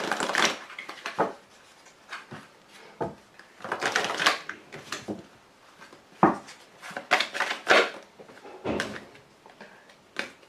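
Oracle cards being shuffled by hand: repeated bursts of riffling and sliding card noise in irregular clusters, close and fairly loud, with short quiet gaps between handfuls.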